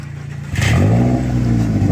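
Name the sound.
Toyota Corolla 1.8 engine revving, rattly exhaust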